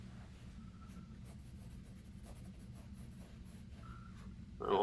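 Pencil shading strokes on paper while drawing an iguana, soft steady scratchy rubbing in short repeated passes, close and quiet over a low hum, ending in a brief louder knock.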